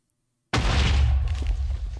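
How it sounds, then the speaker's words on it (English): A Minecraft explosion set off on the ground bursts in suddenly as a loud, deep boom, then rumbles on steadily with a low roar through the rest of the moment, with no talking. "If I just blow one of these up on the ground, how high does the explosion go?"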